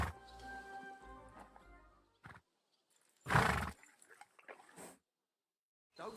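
A horse in the Kingdom Come: Deliverance II video game gives a loud whinny in the middle, amid sparse snorts and hoof sounds separated by quiet gaps, with a voice speaking at the start.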